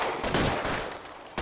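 Gunfire in the crime video game LA Noire, a quick burst of loud overlapping shots packed into just over a second.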